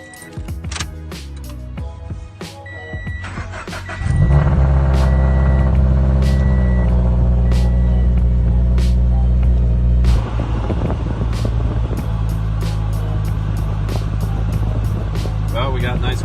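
A 2013 Scion FR-S engine cranks and catches, then settles into a steady low idle heard from inside the cabin, with an electronic beeping and chime tones before and over the start.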